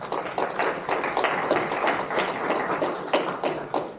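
Seminar audience at a Viksit Bharat 2047 talk applauds with a steady patter of hand claps, moderately loud and fairly even, with no talking over it.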